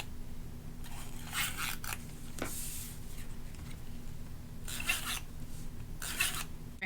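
Tape runner rolling tape onto the backs of Dollar Tree stickers, several quiet raspy scraping strokes in short bursts against a low steady background hum.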